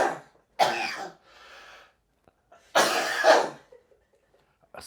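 Two loud, harsh coughs about two seconds apart, close by, with a softer wheezy breath between them and quiet afterward.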